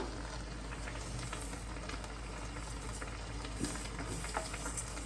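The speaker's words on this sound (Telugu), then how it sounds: "ఫస్ట్ ఇవి లైట్గా ఫ్రై చేసుకోవాలండి. సిమ్లోనే ఫ్రై చేసుకోవాలి." Coriander and cumin seeds, with cardamom, dry-roast in a pan on low heat for chicken pickle, a soft steady crackle and faint sizzle with a few light ticks under a constant low hum.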